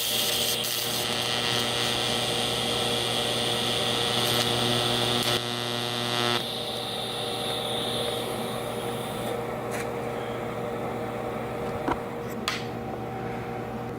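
Tack welding a cracked go-kart exhaust produces a steady buzzing, crackling hum that runs almost continuously at close range, with brief pops and clicks where the arc starts and stops.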